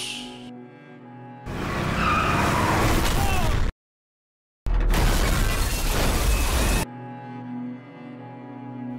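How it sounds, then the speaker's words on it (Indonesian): A truck slams into the back of a car in a fatal crash: loud broadband impact noise with skidding and grinding, broken by a sudden second of silence, then another loud, chaotic burst before it cuts off. "dari belakang, sebuah truk menabrak mobil Ashif hingga tewas"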